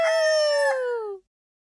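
A single rooster crow rings out loud and close, one drawn-out tonal call falling slightly in pitch before stopping abruptly into silence.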